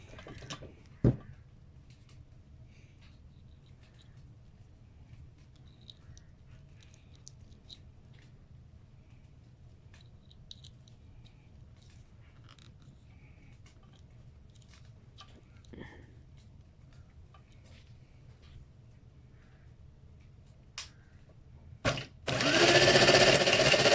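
A faint, steady whir comes from the small electric motor of a homemade electric scooter running on the bench. It is joined by occasional clicks and taps, and a loud burst of noise arrives at the very end.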